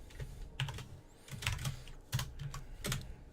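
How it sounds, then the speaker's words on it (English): Typing on a computer keyboard, close and clear, with quick clusters of key clicks in an uneven rhythm and short pauses between bursts. "Hear me typing away."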